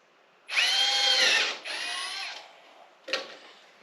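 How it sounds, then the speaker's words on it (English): A power drill bores a small hole during a moonshine still build, in two close bursts of whining motor and cutting, followed after a pause by a brief third spin-up. "We'll drill a hole and then we'll see"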